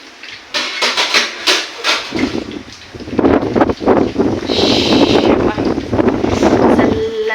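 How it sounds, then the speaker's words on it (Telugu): Cold wind blowing across an open village setting, a rough gusty rumble buffeting the microphone, mixed with scattered knocks and clatter and a voice talking underneath. "చల్లగాలి వస్తుందబ్బా."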